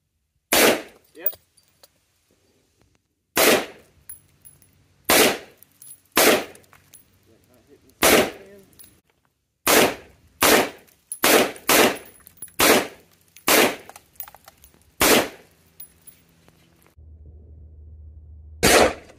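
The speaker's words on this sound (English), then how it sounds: "Shoulder fire this time." A gun with a Feyachi G-35 laser mounted, fired from the shoulder outdoors: a dozen or so loud, sharp separate shots at irregular intervals, close by, with a brief spoken word and a low hum toward the end.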